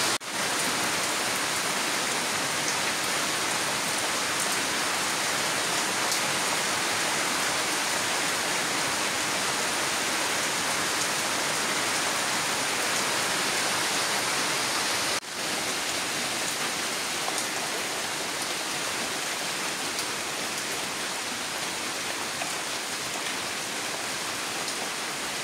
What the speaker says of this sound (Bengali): সকাল সকাল বৃষ্টি শুরু হইলো